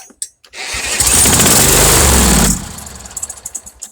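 Small engine on a zero-turn lawnmower bought for a dollar, cranked with a drill, catches and roars briefly at full loudness for about two seconds, then cuts out into sputtering, knocking pops.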